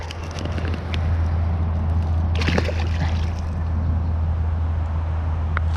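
A bass released back into creek water gives a brief splash and slosh near the middle, set against a steady outdoor hum and water noise with no talk.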